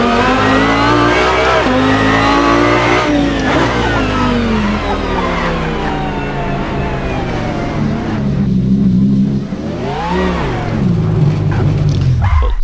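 A modded car in the Assetto Corsa racing game drives a modded track, its engine loud and continuous, revving up and down through gear changes with pitch sweeps, heard alone without talk.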